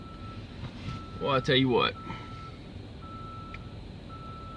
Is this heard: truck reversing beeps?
yes